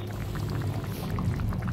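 Fish and potato curry with fried tengra fish bubbling steadily in a pan, a dense continuous simmer with small popping bursts, close and moderately quiet with no talking.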